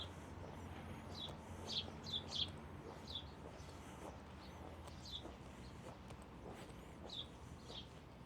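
Small birds chirp in short bright bursts around a quiet village street in Megalochori, Santorini, their calls scattered over steady outdoor background noise without any talking.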